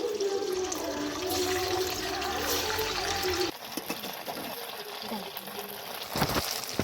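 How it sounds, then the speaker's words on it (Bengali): Paneer frying in hot oil in a kadai, a dense bubbling sizzle that drops in level partway through, then quieter frying with a few clinks and scrapes, close up, under faint background voice. "কড়াতে তেলও দিয়েছি। এবার একটু আমি ভেজে নেব।"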